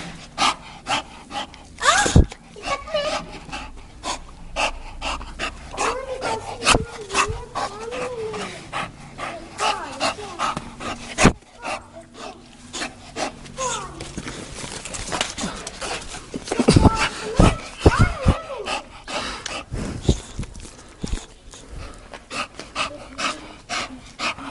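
A Buldogue Campeiro bulldog pants and snuffles close by with heavy breathing, scattered sniffs and thumps, fairly steady over the clip with brief louder bursts.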